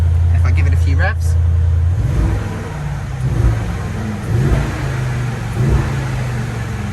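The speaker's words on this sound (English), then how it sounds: "So let's start the car and hear that new 4-litre engine." A 2021 Mercedes GLS 63 AMG with its 4-litre engine, in Sport Plus mode, gives a few rising revs over a steady low idle, each swell loud and close before settling back.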